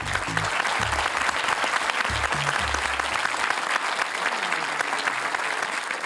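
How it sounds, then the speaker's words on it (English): A large crowd applauds steadily and loudly, with dense continuous clapping and a low murmur of voices briefly underneath early on. "Please welcome our panel and throw in some extra applause"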